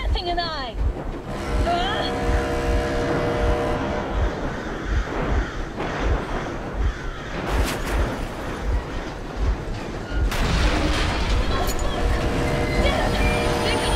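Train engine rumbling steadily in the game Metro Exodus, a continuous loud mechanical drone with rhythmic clatter running the whole time, mixed with other game sounds.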